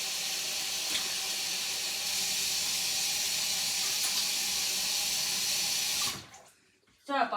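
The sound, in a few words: washing hands under running tap water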